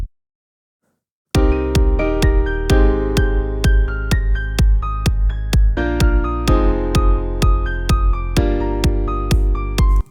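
After a brief silence, a low-pass filtered saw-wave synth bass line drops an octave lower and pulses in a steady run of about eighteen punchy notes, loud and unaccompanied.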